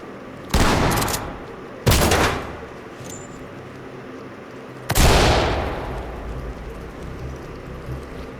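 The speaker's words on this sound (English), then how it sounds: "breach with the shotgun, clear with the flashbang" In the tactical shooter Ready or Not, two loud shotgun blasts breach a door a second apart, followed a few seconds later by a bigger flashbang bang that rings out and decays into room noise.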